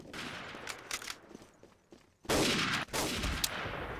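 Dense gunfire and explosions from a competitive first-person shooter match, loud and continuous, with a sustained burst of rapid fire in the middle and no speech.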